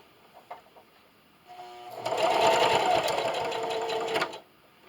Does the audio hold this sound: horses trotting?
no